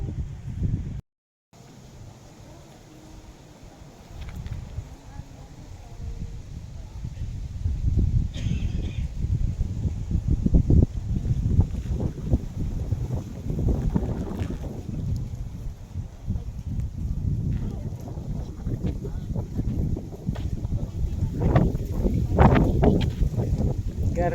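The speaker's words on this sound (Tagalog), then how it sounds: "Taas ng hangin." Strong wind gusts buffet the microphone on the Healing Mountain of Padre Pio in Leyte, a rumbling low roar that swells and fades in irregular surges, with brief rustling over it.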